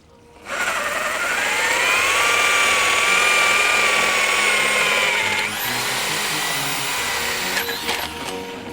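A 42 mm auger bit drilling a hole for sisal rope, a loud steady whirring drone that holds for several seconds, dips slightly midway, then winds down near the end, with no talk.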